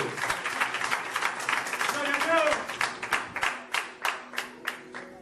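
A church congregation at a Spanish-language sermon breaks into applause, first mixed with a speaking voice, then sharp rhythmic claps that fade one after another.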